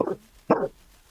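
Dog indoors gives two short, close barks about half a second apart, then falls quiet in an otherwise still room.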